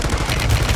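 Bursts of gunfire from a squad-based video game rattle out in a dense, loud volley, the shots blurring together into a rapid rumbling barrage.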